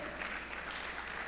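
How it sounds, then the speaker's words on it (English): An audience applauds at the DoSA Day 2026 award ceremony with steady, moderately quiet clapping from a crowd that holds an even level throughout. "Let's keep clapping."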